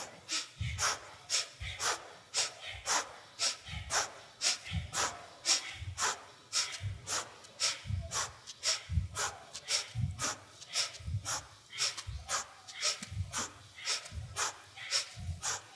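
Forceful, rhythmic breathing during a Kundalini yoga spinal twist: rapid, even inhale-exhale pairs repeat close and loud for about sixteen seconds, each breath a sharp, airy rush through the nose.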